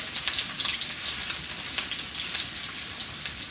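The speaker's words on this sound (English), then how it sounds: "And now we are adding these sliced onions" Sliced onions for chicken rezala sizzle in hot oil with a bright, dense crackling hiss, close and continuous, and no speech.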